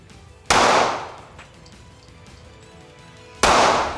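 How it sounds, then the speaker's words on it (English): Two loud gunshots ring out close by during defensive firearms training, fired at a target about three seconds apart, each a sharp crack followed by a decaying echo. "Put 2 rounds center mass to the bad guy."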